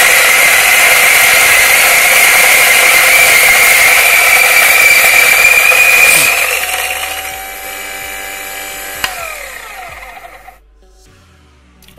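A Guglielmo JX500 electric coffee grinder set to 6 grinding coffee beans, a loud, close, steady whirring rasp that runs for about six seconds, then winds down in pitch and fades to quiet.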